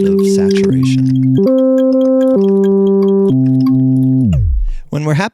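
A CHOMPI sampler loop with saturation: steady, loud synth tones that step between pitches in held blocks, then glide down near the end, with a brief scratchy burst at the close.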